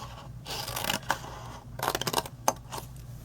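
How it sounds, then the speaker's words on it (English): Scissors snipping cardstock along a score line for a handmade Halloween gift treat box, a string of close, crisp cuts and paper rustles in short bursts with brief pauses between. "Cut up on your score line."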